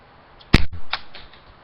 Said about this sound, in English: these missiles can fire